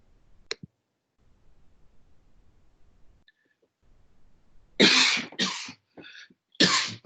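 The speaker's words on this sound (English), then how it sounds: "I've got a bit of a cough." A person coughs several times in quick succession, loud and close, after a short sharp sound and a stretch of quiet low murmur.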